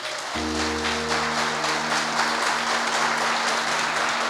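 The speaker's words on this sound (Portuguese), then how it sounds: "Se você crê, aplauda Jesus." A church congregation claps steadily and loudly during a Portuguese-language sermon while a sustained keyboard chord holds underneath. The applause stays dense and even throughout.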